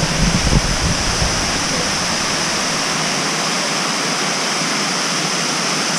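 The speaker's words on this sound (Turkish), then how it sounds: "Şelalenin en güzel yanı sanki insan eliyle yapılmış merdivenlerden akıyor su." Waterfall in Dalat, Vietnam, pouring down natural stone steps, making a loud, steady, close roar of rushing water with a brief rumble at the start.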